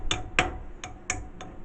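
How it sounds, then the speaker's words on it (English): Five sharp metallic hammer strikes ring out on a heated mud mower front hub, evenly spaced and close, each blow leaving a brief bright ring. "Now while it's hot, I'm going to see if I can hammer it down."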